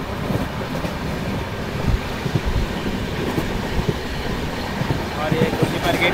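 A passenger train runs steadily from Durg toward Puri, its wheels giving a continuous rumbling roar with faint clickety-clack beats and occasional thumps throughout, while a voice speaks faintly beneath the running noise.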